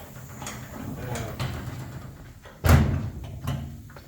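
Door of a Bombardier machine being opened in a garage, a single solid thunk with a rattling latch, close and fairly loud against faint background noise.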